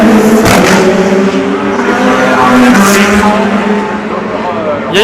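Audi prototype race cars at the 2016 Le Mans 24 Hours, one entering the pits, give a steady loud engine drone with shifting pitch throughout, under continuous commentary.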